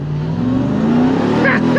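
Ram TRX truck launching and accelerating, a loud close engine roar rising steadily in pitch with brief tire noise, with someone talking over it.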